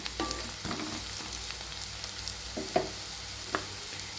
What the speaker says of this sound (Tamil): இப்போங்க சின்ன வெங்காயத்தை நல்லா வதக்கி விட்டுக்கலாங்க